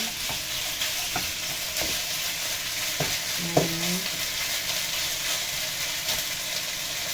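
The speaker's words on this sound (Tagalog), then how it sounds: "Halo-haloin lang po natin." Food frying in a pan is stirred, with a steady sizzle throughout and a few soft scraping strokes and light utensil knocks on the pan, close and clear with no talking.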